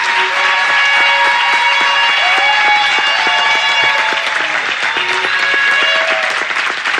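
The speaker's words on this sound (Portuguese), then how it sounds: "Você pode aplaudir o Senhor mais forte." Loud, sustained applause from a large audience fills a national youth conference hall, dense clapping running unbroken with musical tones ringing faintly beneath it.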